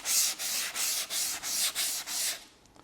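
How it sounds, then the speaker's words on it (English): Brisk back-and-forth sanding with 400 grit sandpaper, about eight quick close strokes, then it stops. "I'm using 400 grit sandpaper."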